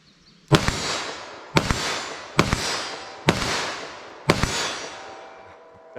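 Five loud, sharp .357 Magnum rounds fired one after another from a snub-nose revolver, each crack followed by a short ringing tail, about one second apart with no talking.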